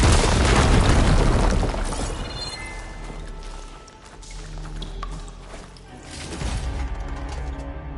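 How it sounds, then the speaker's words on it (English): Fire grenade explosion in Horizon Forbidden West: a loud, sudden boom at the start that decays into a rumbling, crackling tail, followed by quieter swells of rumble and debris-like noise. "Let's get this fire grenade out of here."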